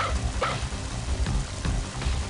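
Steady, dense rain falls in the video game Mother 3, a continuous wash of patter holding at the same level throughout.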